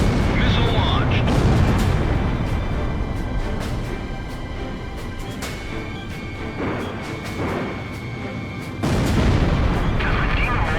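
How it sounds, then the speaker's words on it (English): Missile launches and heavy explosions in the Ace Combat Zero: The Belkan War jet combat game, with rumbling booms, sharp blasts and a sustained roar over about eleven seconds that swells again near the end. "Missile launched."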